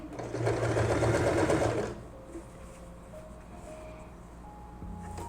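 A sewing machine stitches a fabric apron in a loud, steady burst of rapid needle chatter lasting about two seconds, then stops, leaving quiet room tone.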